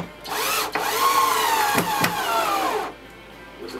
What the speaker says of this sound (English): With a dead battery drill.